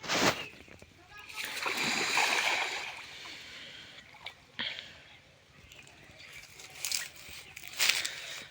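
A fish, its belly swollen with eggs, is released back into a backyard pond and lands with a splash near the start, with more water splashing and a voice over outdoor ambience.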